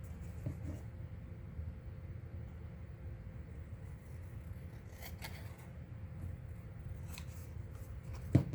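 Scissors trimming paper for a waterfall belly band, faint scattered snips over a low steady room hum, with a sharper click at the end, close and quiet, no voices.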